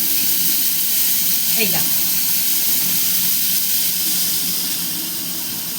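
Small diced potatoes, soaked in water and rinsed, go into hot oil and sizzle loudly in a constant hiss that fades slightly at the end, while a voice speaks briefly.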